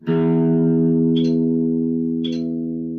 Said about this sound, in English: I'm going to pluck a string and I'm going to pluck it out of tune